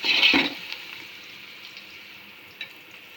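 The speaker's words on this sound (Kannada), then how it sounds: "ನೋಡಿ, ಫ್ರೈ ಆಗ್ತಾಯಿದೆ." Chicken biryani ingredients fry in a pan, giving a steady, faint sizzling hiss after a brief louder splash at the start.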